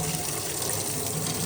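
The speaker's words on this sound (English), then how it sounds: "Kind of some nasty water coming out of that." Water sprays steadily from a sink sprayer in a Scamp camper, a continuous hissing gush running for the whole short stretch at close range with no talking.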